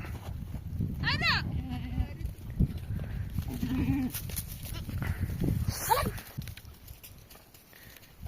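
Goats bleat loudly and insistently, with several wavering cries amid rustling and footsteps outdoors, while a person talks over them.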